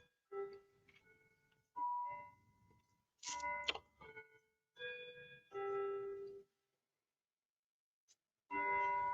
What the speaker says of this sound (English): here's the bell chime